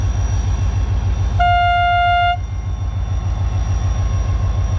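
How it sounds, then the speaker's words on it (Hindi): A Green Line Express train gives its departing whistle in Sindh: one steady, loud horn blast lasting about a second, sounding over the constant rumbling throb of the train. "ट्रेन ने अपना फर्स्ट डिपार्टिंग विसल दे दिया है"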